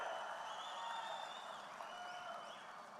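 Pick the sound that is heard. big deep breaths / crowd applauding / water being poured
crowd applauding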